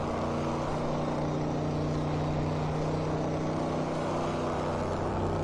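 Race car engine in the RaceRoom game at the RaceRoom Raceway, a steady droning hum at constant pitch with no clear shift break, fairly close and unbroken.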